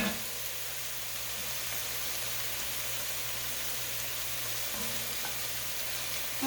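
Onions and celery sauté in a pan for green chili, giving a steady, even sizzle with a soft crackle that holds at one level throughout, close and with no talking.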